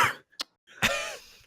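A single rough cough or throat-clearing burst, then a brief click and a longer hoarse, voiced cough, close and fairly loud against near silence.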